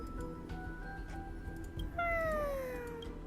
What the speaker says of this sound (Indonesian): Kucing lucu nih.